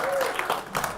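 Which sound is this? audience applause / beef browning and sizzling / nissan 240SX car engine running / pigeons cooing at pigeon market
audience applause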